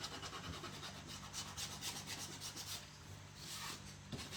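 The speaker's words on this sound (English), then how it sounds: "I'm just going to take my little gator sander, and I am going to sand like around the edges, distress them a little bit." Small gator sander rasping along the edges of painted wood to distress them, a continuous faint scratchy rubbing with uneven pulses.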